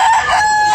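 A rooster crowing once, close and loud, a short strained tonal call held for under a second, at a backyard poultry area in Tabunok, Cebu.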